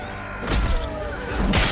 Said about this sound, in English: Boy, I'm punching the cannon.